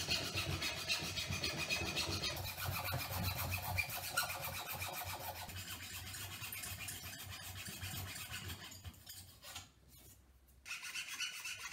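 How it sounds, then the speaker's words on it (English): Wood being cut with a handsaw for a homemade spear, giving a steady rasping scrape of rapid strokes up close, with a brief break near the end before the sawing resumes. "Once you're done marking it, cut it with a handsaw."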